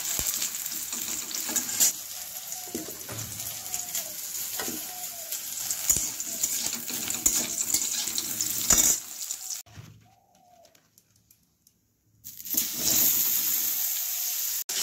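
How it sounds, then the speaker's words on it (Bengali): Vegetables frying one by one in a pan, a dense continuous sizzle with crackles that drops to near silence for a couple of seconds before the loud sizzle resumes. "সব আনাজপাতি একে একে ভেজে নিচ্ছি"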